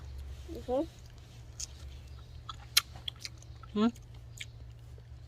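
Soft, close chewing and biting of a fresh backyard-garden strawberry, with small wet clicks and smacks over a steady low hum, interrupted by two brief vocal sounds.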